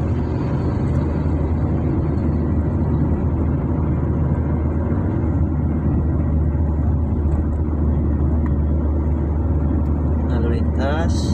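Steady, dense road traffic roars across a busy flyover junction on Jalan Jenderal Sudirman in Pekanbaru, with cars passing continuously and close, a constant loud engine wash throughout.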